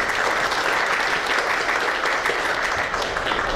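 An audience at a public-data discussion meeting breaks into steady applause, a dense uniform patter of many hands, fairly loud and unbroken for the whole few seconds.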